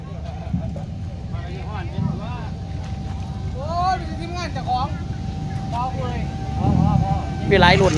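Farm tractor engines at a tractor race rumble steadily in the background under continuous loud commentary over a PA, with wind noise on the microphone.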